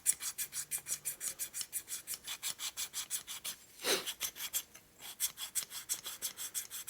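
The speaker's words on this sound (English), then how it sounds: "A little more lapping going this time." Hand lapping a 1961 Harley-Davidson Sportster XLCH engine part with lapping compound gives a steady, rhythmic back-and-forth gritty rasping, close and fairly quiet, with one brief louder scrape midway.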